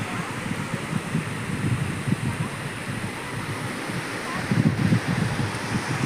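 Waves on a very shallow sea shore near Durrës, Albania, a loud continuous wash of surf with irregular surges close by, mixed with wind buffeting the microphone.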